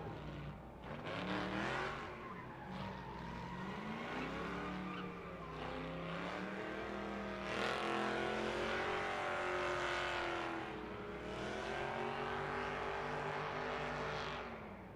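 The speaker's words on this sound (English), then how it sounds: "Danny George explodes that front clip in the Grab Broker V8 Mazda Miata." A V8-swapped Mazda Miata drift car at full throttle at a Formula Drift round in Las Vegas, its engine screaming continuously and loud, with the pitch rising and falling and tires squealing throughout.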